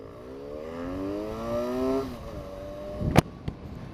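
A Benelli 300 motorcycle engine revs up with rising harmonic whine over roughly two seconds, then settles back, followed by a couple of sharp knocks or clunks near the end; close and fairly loud.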